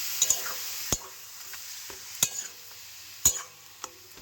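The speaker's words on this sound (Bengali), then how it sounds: "এবার এর সাথে দিয়ে দেবো আমি থোড়টা বাটা" Ground banana stem paste, made with mustard, green chilli and dried chilli, being stirred into fried coconut in a pan, with a low sizzle under a few sharp scraping clacks of the spoon spaced about a second apart.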